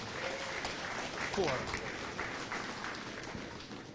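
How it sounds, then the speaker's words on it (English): A crowd applauds the exhibitors at a cattle show, the Midwest Spring Show, with soft, dense, distant-sounding clapping mixed with people talking. "give all the exhibitors a big round of applause"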